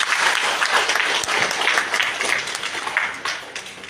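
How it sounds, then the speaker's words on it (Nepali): Steady, dense applause from an audience at a Teej festival gathering, many hands clapping together close by for the whole stretch with no break. "ताली पड्काइदिनु होला"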